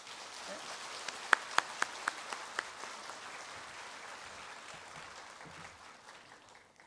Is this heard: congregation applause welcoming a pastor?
yes